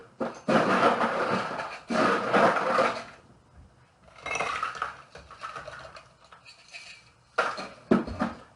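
Ice cubes pour into a cocktail glass in a few loud rattling bursts, with clinking and shaking noises between them, close and with no talk.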